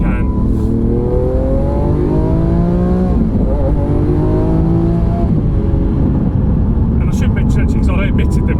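A Lamborghini Aventador S's V12 engine revs loudly and close, its pitch rising and falling through several sweeps across the whole stretch, then settling near the end.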